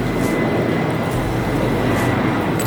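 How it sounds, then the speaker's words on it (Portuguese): An airplane passes overhead as a steady, loud broadband roar with a low rumble, sustained evenly throughout without speech. "ó, avião."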